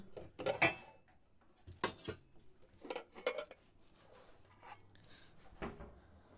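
Metal clanks and knocks as a cooking pot is handled and set down in a home kitchen, several sharp hits spaced apart with quieter rattles between.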